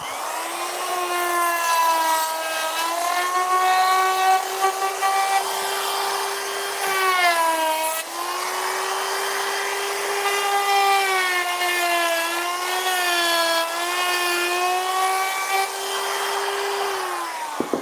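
A handheld router cuts a decorative shape around the edge of a wooden gargoyle letter box in a workshop, its motor whining at a steady high pitch that dips and rises as it bites into the wood, continuous and alone.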